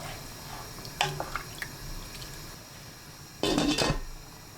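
Liquid pours into a pot of kimchi stew with pork, a faint trickle with small metallic knocks, followed by a louder clattering rattle as a lid is set on the pot near the end.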